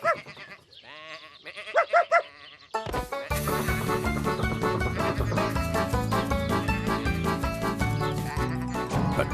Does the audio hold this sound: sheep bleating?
yes